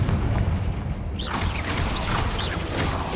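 A Confringo fire-blast spell cast in Hogwarts Legacy, a dense roaring burst with crackling magical streaks, loud and close over constant game ambience, sustained for a few seconds.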